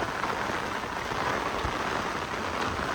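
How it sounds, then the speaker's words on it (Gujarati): Monsoon rain pours down steadily, a dense, even hiss of heavy drops close by, unbroken and without voices for the whole stretch. "હજી ભાઈ વરસાદ તો બંધ થવાનું નામ જ નથી"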